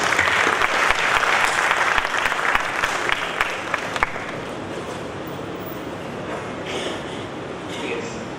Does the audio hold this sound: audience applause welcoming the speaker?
yes